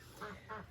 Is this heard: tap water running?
no